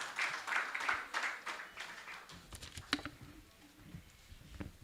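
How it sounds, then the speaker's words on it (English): A book launch audience applauds a contributing author, a dense patter of clapping that swells early and then thins into scattered claps and a few louder slaps over a quiet room. "Can we make her feel special and welcome with our applause?"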